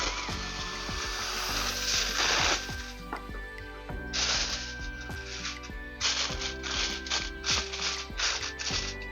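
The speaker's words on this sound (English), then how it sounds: "And then you want to cover it with some foil." Aluminium foil is pulled and crinkled over a tray of oven-baked BBQ pork ribs, producing close, loud bursts of crackling and rustling in an uneven rhythm, with a faint steady hum underneath.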